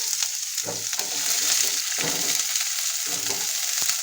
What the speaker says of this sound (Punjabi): ਤੇ ਹੁਣ ਇਹਦੇ ਵਿੱਚ ਆਪਾਂ ਪਿਆਜ਼ ਪਾਵਾਂਗੇ